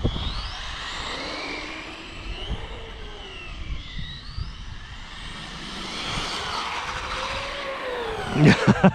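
A Tamiya TT01 radio-controlled car running on a 4S battery over damp ground, its electric motor whining up and down in pitch as it speeds past and turns, with rattling and tire noise and a few sharp knocks at the end.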